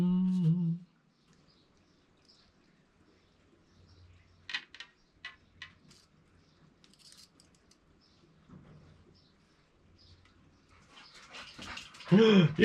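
A puppy gives soft, faint whimpers and small squeaky vocal bursts in a quiet room, with brief voices at the start and end.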